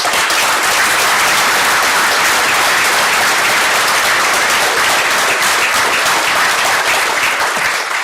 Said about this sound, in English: can we join everyone for a round of applause for our volunteers?